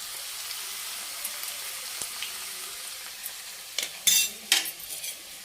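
Ground spice powder, turmeric and dried red chillies frying in a pan, a soft steady sizzle with a few sharp utensil scrapes and stirring clinks near the end, close and quiet, without speech.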